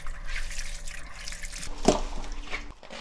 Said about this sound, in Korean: 이래가지고 절여진 걸 한 세 번 씻어